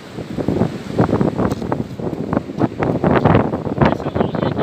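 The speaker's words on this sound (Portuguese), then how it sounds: "Tá ventando muito hoje aqui" Strong gusts on a fishing shore batter the microphone in loud, uneven bursts, with a rushing roar rising and falling throughout.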